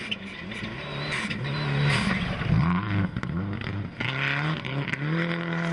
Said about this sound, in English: This is Patrick Richard through the middle section